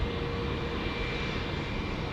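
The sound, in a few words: inbound plane from Christchurch landing at Auckland Airport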